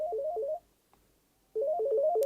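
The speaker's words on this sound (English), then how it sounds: "Base unit's actually ringing" Panasonic TGM4 series cordless phone base unit ringing in two bursts of a warbling electronic ring tone, a pause of about a second between them, clear and close.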